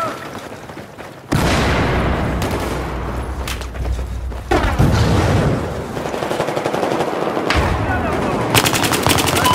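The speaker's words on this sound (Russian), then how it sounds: "Бросаю гранату! Граната!" Battlefield 4 combat with sustained machine-gun bursts and booming impacts, loud and close, a grenade blast thumping in among the rapid gunfire.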